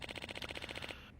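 A rapid string of about a dozen evenly spaced pops from firecrackers in the video game Lost Judgment, fairly quiet and crackling for under a second before trailing off.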